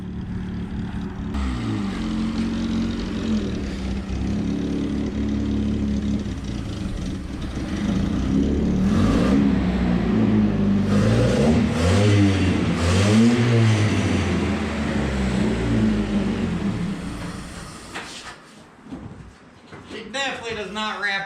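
A beat-up Datsun mini truck engine idles and revs on a used car lot, with rising and falling pulls that swell loudest midway before dropping to a rough idle, while someone talks over it.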